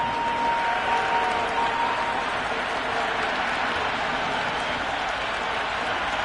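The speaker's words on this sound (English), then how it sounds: "The crowd are really getting quite raucous." A video game cricket crowd cheers and applauds steadily, a dense roar of noise sustained throughout with a faint whistle near the start.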